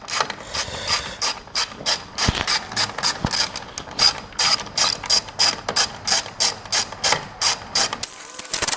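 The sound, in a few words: ratchet unscrewing 10 mm bolts from F150 grille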